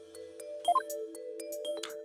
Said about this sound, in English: The sound of bells changes to the sound of water at one point.